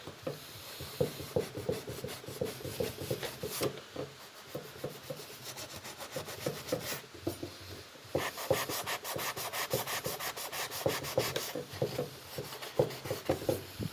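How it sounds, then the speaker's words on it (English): Sanding block scrubbing surface rust off an old flea-market knife blade, a faint, quick rhythmic rasping of rapid back-and-forth strokes with short pauses, close and steady, with no talk. "I'm going to see what this sanding block will do with it."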